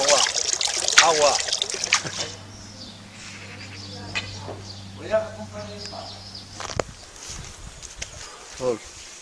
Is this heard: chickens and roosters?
no